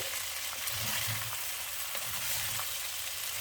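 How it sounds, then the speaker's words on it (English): Onions sizzle steadily in a hot frying pan as they are stirred, a dense close hiss with soft low scraping movements underneath, no talking. "So you want to get these going for a couple of minutes. Mix everything around, keep stirring it"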